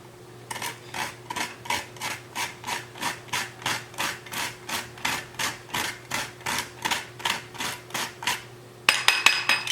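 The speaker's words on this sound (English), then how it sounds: "That's probably about a 1/4 teaspoon of nutmeg that I've just ground." A whole nutmeg is ground in a small handheld nutmeg grinder, giving a steady run of about twenty-five close, even rasping strokes with a brief scraping clatter at the end.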